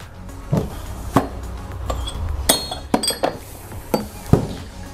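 Drinking glasses, one large and one small, clink against each other and a hard surface as they are set out beside an espresso machine, several sharp separate taps with no talk.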